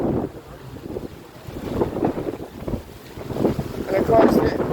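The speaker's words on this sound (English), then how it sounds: "The wind's pretty heavy." Heavy wind buffets the microphone at the seashore, with waves surging and crashing in a continuous roaring wash that rises and falls.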